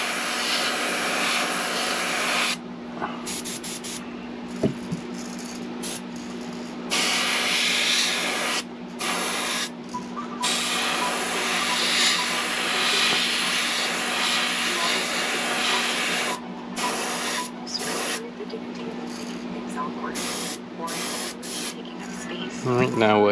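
An airbrush or spray gun hisses steadily while painting a shiner shad pattern onto a popper fishing lure, with short pauses between bursts and a faint voice in the background.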